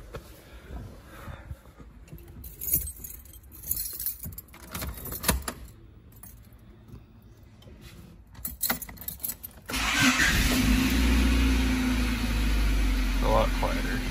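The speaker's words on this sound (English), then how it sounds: "It's the first crank." A 1995 Honda Civic with a freshly installed Megan Racing header cranks, then catches and settles into a loud, steady idle. Keys jangle and scattered handling noises come before it, with brief talk nearby.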